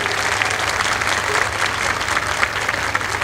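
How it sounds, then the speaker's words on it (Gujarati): Sustained applause from a school audience for schoolchildren after their performance at an annual day function, a dense steady wash of many hands clapping throughout, fairly loud and even with no pauses. "તેમને તાળીઓના ગડગડાટથી વધાવી લઈએ"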